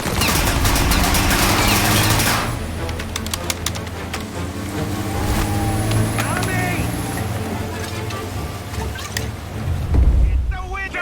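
Rapid gunfire aimed at a car windshield in Mafia Definitive Edition rattles in dense bursts over engine rumble, with shouting voices throughout and a brief lull before more shots.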